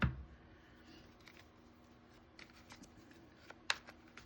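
Tarot cards are shuffled in a quiet room, giving soft papery riffles and taps that cluster in short bursts, with one sharper snap near the end, faint and close with no talk.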